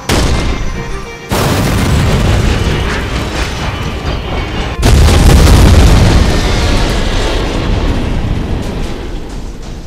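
Animated tank cannons fire in a battle, heavy booming blasts and explosions rolling into a loud sustained roar, with a sharp new burst near the middle that pushes the rumble even louder.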